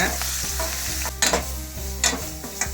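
Ground masala stirred into hot oil in a pan for crab soup, with a steady sizzle and fry under repeated scraping strokes of a spoon, close and fairly loud, and no talking.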